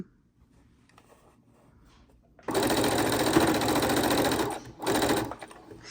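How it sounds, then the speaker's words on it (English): A sewing machine stitches fabric scraps together for a scrappy quilt: after a quiet moment it runs in a loud, steady burst, pauses briefly, then whirs again, close up. "today all we are doing is sewing scraps together"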